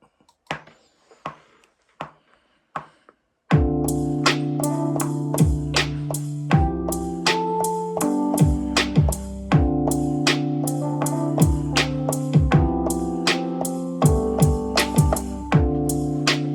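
A programmed drum beat built in GarageBand, with a reworked hi-hat pattern: a few sparse hits at first, then a loud, steady groove of kicks, snares and hi-hats with a rhythmic melodic layer, playing alone without talk.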